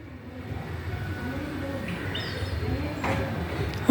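A dove perched in a tree gives soft, low cooing calls, fairly faint under steady outdoor background noise and a brief sharper sound near the end.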